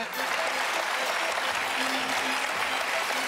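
Studio audience on a television show applauds steadily as a guest named Marc is welcomed on, a dense, even wash of clapping from start to finish.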